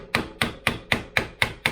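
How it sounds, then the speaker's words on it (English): Seven evenly spaced metallic taps of a hammer on a slotted screwdriver, loosening the lock ring on a 2000 Honda CR125R shock held in a vise; the strikes are sharp, close and steady in rhythm with no talk. "Just use a slotted screwdriver and a hammer, and we're going to tap it"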